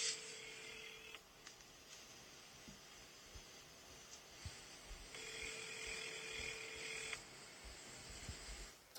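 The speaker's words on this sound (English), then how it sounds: "The phone's ringing." A telephone rings faintly in a room, with two long electronic ring bursts separated by a pause over a steady low hiss.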